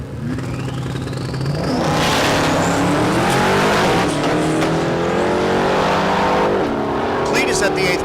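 A drag race car makes a run at Mid America Dragway in Geuda Springs, Kansas, its engine roaring loudly and rising in pitch as it accelerates away, with an announcer talking over the noise.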